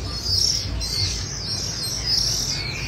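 A caged songbird chirps and whistles in repeated bright phrases over a steady low background hum, fairly loud and close, with no voices.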